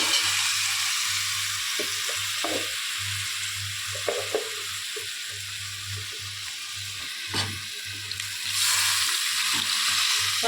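Soft bubbling and sizzling from a pan of potato curry with fish head simmering on the stove, with occasional stirring clicks and a steady low hum underneath.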